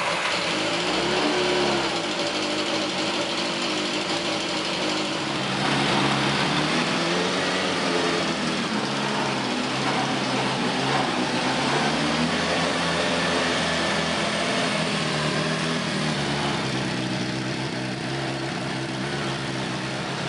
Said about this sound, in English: I'm just gonna fire this thing up and let it sit here and idle and warm up.